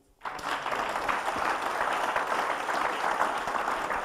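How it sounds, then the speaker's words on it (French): An audience breaks into sustained applause at a spiritual service, a steady wash of clapping that starts abruptly and keeps going at an even level. "Acclame-le."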